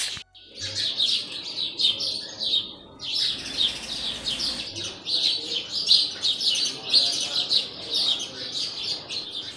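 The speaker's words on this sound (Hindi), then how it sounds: "ध्यान से सुनना, चिड़ियों की आवाज़।" Birds chirp and tweet continuously in a lively morning chorus, with a soft coo now and then and a brief low thump near the start.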